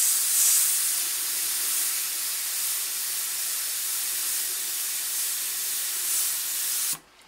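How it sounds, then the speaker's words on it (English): A Badger airbrush sprays and back flushes, giving a loud steady hiss of air and paint that runs without a break before cutting off abruptly near the end. "it starts to spray, and then eventually starts to break up"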